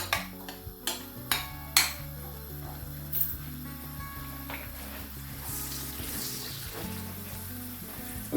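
A spice paste fries in a pan with a low, steady sizzle, several sharp utensil knocks early on, then softer stirring and a brighter hiss toward the end, no voices.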